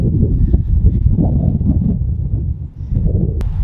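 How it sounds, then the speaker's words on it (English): Gusts of wind buffet a microphone outdoors in a homestead garden, a steady low rumbling roar that dips briefly near the end before returning, heard alone without talk. "I had to wait for the wind to pass"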